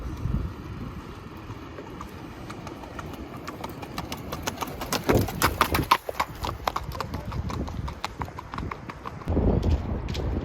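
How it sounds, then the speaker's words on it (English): Horse hooves clip-clop on pavement in Los Angeles in a steady walking rhythm, fairly close, with wind and faint street noise around them. "there's like 2 cowboys riding horses here in LA."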